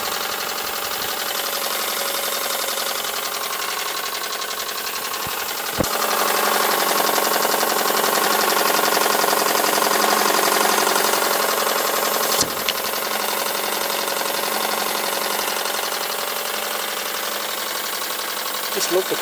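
A large ISIS burner running at 45 psi roars with a steady, loud, broadband rush that holds its level throughout, swelling slightly midway, with a few brief clicks and a voice speaking over it.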